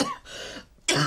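A single person coughs twice in quick succession, close by and clear, with a brief pause between the harsh bursts.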